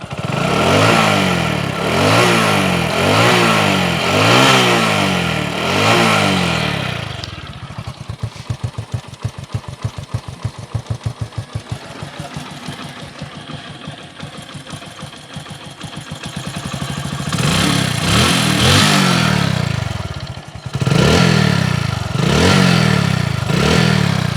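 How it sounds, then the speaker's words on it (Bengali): A second-hand Hero Honda CD Deluxe 100cc motorcycle engine revs loudly in rhythmic surges, drops to a rapid idling putter for several seconds, then revs up again, close by. "গাড়ির সাউন্ড আপনারা শুনতে পারলেন"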